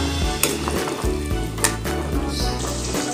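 Opor ayam, Indonesian chicken stew, sizzles steadily in a pan while a utensil stirs and scrapes through it, close and continuous, with a low background hum.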